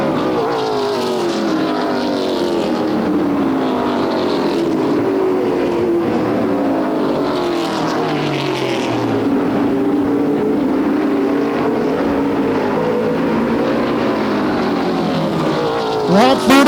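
Ontario Outlaw Super Late Model race cars roar around Flamboro Speedway in a late-lap main event, engines rising and falling as they pass in a continuous loud drone, with a louder burst at the very end.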